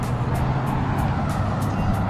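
Continuous roar of road traffic heard from the roadside near a hotel, a loud steady rumble of passing cars and trucks with no break, close and constant.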